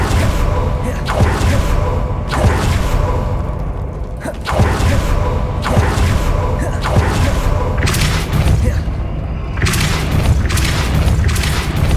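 Depulso repelling spell cast in Hogwarts Legacy, a series of heavy booming thuds and whooshing impacts repeating every second or two over a dense, continuous game soundscape, loud and close.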